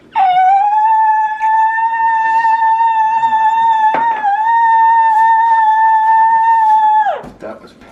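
A dog lets out one long, loud, sustained howl close by, holding a steady pitch for about seven seconds before dropping away at the end.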